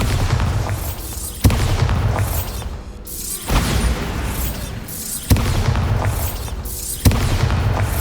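Booming explosions from the Bombarda spell in a video game, several heavy blasts arriving at roughly regular intervals, each a loud, sharp onset followed by a rumbling decay that fades before the next hit.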